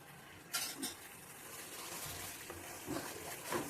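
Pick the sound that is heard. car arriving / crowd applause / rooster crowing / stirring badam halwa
stirring badam halwa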